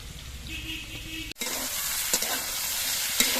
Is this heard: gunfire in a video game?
no